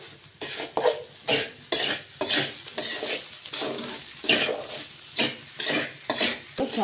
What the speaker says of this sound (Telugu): హై ఫ్లేమ్లో పెట్టి ఫ్రై చేసుకోండి